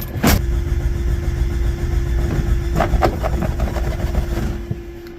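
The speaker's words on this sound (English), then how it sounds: "Let's see if she'll actually chooch to life. This is a carbureted model." A carbureted Suzuki Samurai engine idles loudly and close after a cold start, a rough, steady rumble with a few sharp knocks and revs.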